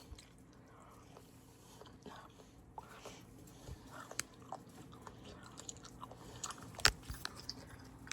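Someone bites and chews a lightly cooked snack that keeps a bit of crunch, with faint, close crunches and soft chewing scattered over several seconds in a quiet room.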